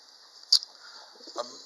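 A pigeon gives a single soft coo, then a fainter one, sounding over a steady high-pitched background hum.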